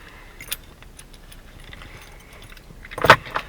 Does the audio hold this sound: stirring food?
no